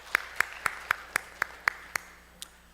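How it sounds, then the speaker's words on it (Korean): A church congregation at a Sunday morning worship service claps in an even, steady rhythm of crisp beats, fairly soft in the room, before the clapping trails off. "우리 다시 한번 하나님께 영광의 박수를 돌려드립니다."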